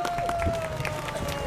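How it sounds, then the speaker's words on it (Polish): Audience applause at a ceremony marking an anniversary of the Greater Poland Uprising, brief scattered clapping under a crowd murmur and nearby voices, fairly close but not loud. "Gromkie brawa!"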